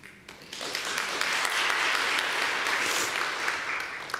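Audience applause at a milestone celebration swells in after a brief lull and keeps up as a thick, sustained wash of clapping, with no voices standing out.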